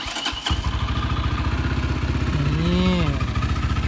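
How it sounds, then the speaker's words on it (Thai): A Stallions Makina 250SP custom tracker motorcycle engine fires up and settles into a steady, throbby idle, with a brief rev rising and falling partway through; loud and close. "อาจจะสตาร์ทให้ฟังเสียง ท่อเสียงเครื่องยนต์นะฮะ"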